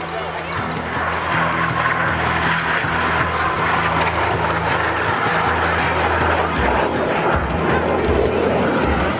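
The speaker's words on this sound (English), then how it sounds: "First of 12 displays for you this afternoon is the BAC Strike Master, essentially an armed version of the Jet Provost." A BAC Strikemaster light attack jet, an armed version of the Jet Provost, flies a display at the 2015 Manchester airshow, its engine a loud, steady, continuous roar that swells slightly as it passes.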